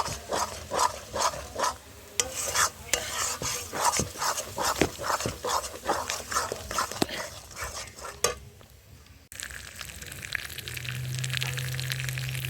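Bottle gourd leaf paste fries in oil with a close sizzle and repeated scraping stirs for several seconds. The clip then gives way to a quieter, steadier hiss with a low hum.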